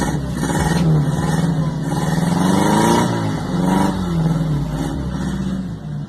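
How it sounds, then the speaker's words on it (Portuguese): A Volkswagen Gol CHT 1000 exhaust, set up to make a sporty noise without being removed, rumbles close and loud as the engine is revved up and down in a few swells, with a faint voice behind it. "Vou mostrar um vídeo aqui pra vocês do escapamento do Gol CHT1000."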